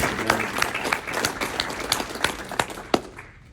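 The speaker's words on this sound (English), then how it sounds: "just give them a round of applause" A crowd claps in a brisk, irregular patter of applause, fairly close and fading toward the end.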